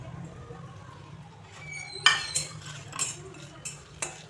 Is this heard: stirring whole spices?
yes